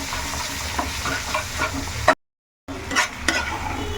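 Ginger, garlic and cumin paste stir-fries in a pan of tomatoes, a close, steady sizzle with repeated spatula scrapes; the sound cuts out abruptly for half a second midway, then resumes.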